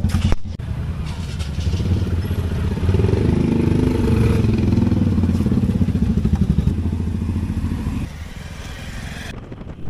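A motorcycle engine runs steadily and loudly throughout, with a low rumble and some clatter, easing off slightly near the end.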